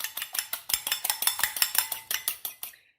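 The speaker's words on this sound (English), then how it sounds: "crack open our egg. Whisk it with a fork." A fork whisks a cracked egg in a bowl for homemade chicken nuggets: a quick, regular series of sharp metallic clicks and taps, about five per second, fairly close, that stops abruptly at the end.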